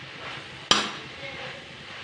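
A spoon scrapes and clacks once against a pan of food being stirred, a single sharp knock followed by soft scraping under a quiet kitchen background with faint sizzling.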